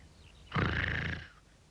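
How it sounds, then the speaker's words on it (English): A sleeping tramp in a Mr. Men cartoon lets out a single deep, rasping snore that swells loudly for about half a second, sounding much like a growling big cat, then fades into quiet. "The tramp, fast asleep, snored."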